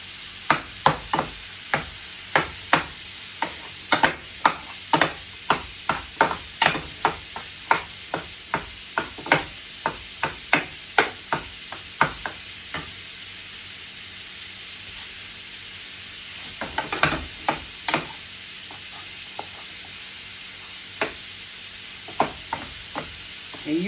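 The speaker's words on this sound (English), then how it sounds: "And I'm just chopping up my meat" Meat sizzles steadily in a hot pan on a stovetop for lasagna while a utensil chops and scrapes it in sharp, close, repeated knocks, dense at first, then sparser and more irregular.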